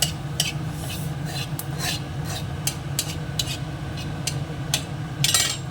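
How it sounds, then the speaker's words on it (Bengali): Green chili cut over a pan of hot oil holding a dried red chili and cumin: a string of crisp, irregular cutting clicks and rasps rides over a steady low sizzle. "আর একটুখানি জিরে লঙ্কাটাকে একটু কেটে দিই"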